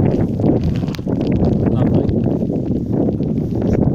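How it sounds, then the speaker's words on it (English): Strong wind with rain buffets the microphone in a continuous low roar at a campsite in the New Forest, with a voice talking over it throughout. "It's very windy and very wet."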